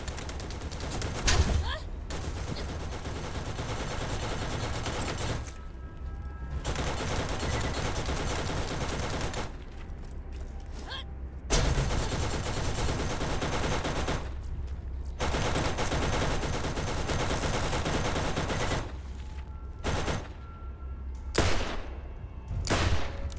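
Sustained SMG gunfire in the video game Borderlands, firing in long loud bursts with brief pauses between volleys, plus a few sharp single shots near the end.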